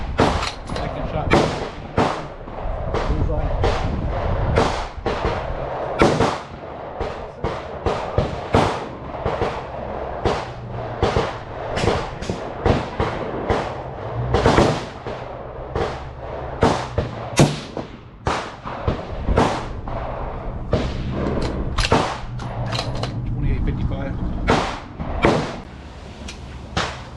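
Gunshots crack in rapid, irregular succession at an outdoor shooting range, loud sharp reports from several shooters close and farther off, with people talking at times between them.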